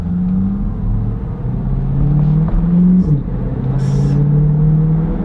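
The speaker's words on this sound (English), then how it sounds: "those deceleration burbles, those burbles when you decelerate" A C8 Corvette with an aftermarket exhaust rumbles loudly as it decelerates, its engine note sliding down and wavering, with a few faint crackles and pops near the end.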